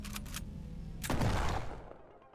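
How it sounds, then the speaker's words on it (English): A single loud gunshot sound effect in a dramatized story cracks out after a few faint clicks and fades into a rumbling echo, with no talking over it. "the gunshot that followed silenced her"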